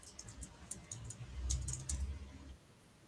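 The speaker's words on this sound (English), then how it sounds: "while I'm busy typing in my number" Rapid clicks of typing on a computer keyboard as a phone number is entered, a soft irregular patter of keystrokes lasting a few seconds, fairly quiet and close, with no voices.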